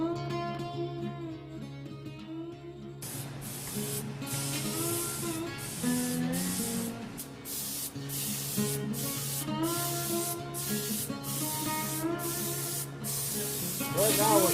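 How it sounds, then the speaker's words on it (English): Stabilized pigment patina is sprayed onto a bronze sculpture in steady hissing bursts with short pauses, heard beneath background music. "Right now we're spraying on a stabilized pigment part of the patina"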